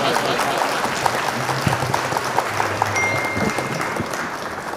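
A crowd at a mushaira, an Urdu poetry gathering, gives a poet a sustained, dense round of applause that stays steady throughout, with faint voices underneath.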